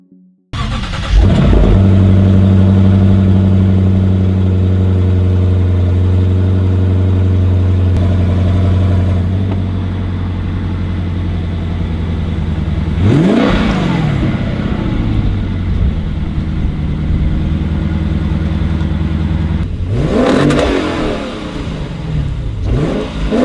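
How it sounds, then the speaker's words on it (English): A 2016 Lexus GS F V8, unvalved exhaust, burbles at a steady idle before being revved up several times, each loud swell rising and falling back to the low rumble, close by and with no talk. "It isn't valve controlled, but I think it still sounds pretty good at high revs and produces a nice burble during idle."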